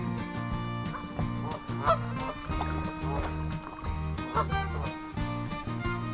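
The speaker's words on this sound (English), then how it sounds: "Here's some silly geese." Geese honking along a creek during a kayak trip, a run of repeated nasal honks close by and fairly loud, with water and paddling noise underneath.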